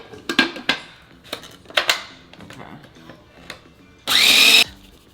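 A kitchen machine briefly whirs as it grinds oats into oat flour, one loud, steady burst of about half a second near the end, following several sharp knocks and clatters of handling the appliance.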